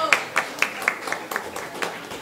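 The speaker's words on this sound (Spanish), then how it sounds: "Aplausos" Audience applause at a sociology colloquium's inaugural panel, a thin scatter of claps rising and repeating over about two seconds, moderately close, with no one speaking over it.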